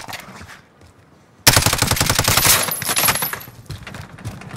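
Video game weapons open fire in a sudden loud burst of rapid automatic gunfire that rattles on continuously with sharp metallic clatter, following a quieter moment, with no voices.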